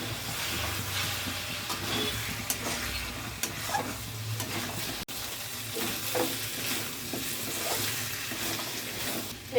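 Hot water added to mutton and spices sizzling in a pan, a loud continuous hiss and bubbling with occasional stirring scrapes, close and without talk.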